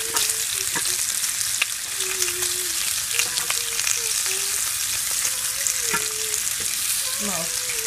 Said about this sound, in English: Now I'm cooking the bacon, and I'm gonna use that bacon fat to